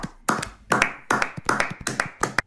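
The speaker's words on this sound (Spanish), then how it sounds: "Como se aplaude la NASA, estamos aplaudiendo nosotros." Several hands clap in an uneven, quick rhythm, about seven sharp bursts over a couple of seconds, close and fairly loud with no talk.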